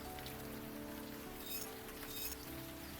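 Steady rain pattering on a surface in the point-and-click adventure game Old Skies, a dense continuous hiss with no talk over it.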